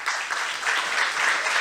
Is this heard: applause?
yes